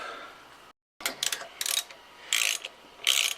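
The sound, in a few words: tightening fasteners on a 93 Mustang GT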